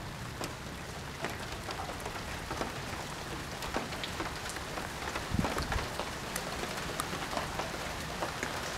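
Heavy rain pours down steadily during a summer lightning storm, a dense continuous hiss of drops with sharp close splatters scattered throughout.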